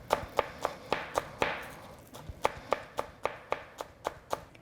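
A knife chops green onion on a cutting board in a steady run of about fifteen crisp, evenly spaced taps, close and clear with no talking.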